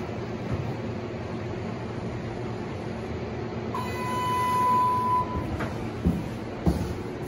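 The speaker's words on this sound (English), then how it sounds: "These are the elevators in the southeast parkade here at the Royal Alexandra Hospital in Edmonton, Alberta." A ThyssenKrupp Aurora hydraulic elevator in a hospital parkade hums and rumbles steadily while running, swelling slightly midway, with a thin electronic tone sounding for a couple of seconds and a few soft clunks near the end.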